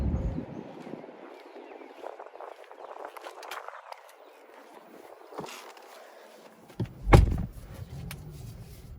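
Someone climbs into the driver's seat of a 2025 Wagoneer S Limited, with soft rustling and seat shuffling, a few light knocks, and a sharp thump near the end as the door shuts, close and quiet.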